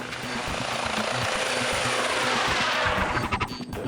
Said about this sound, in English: Two minutes after the call, and the chopper is in the air.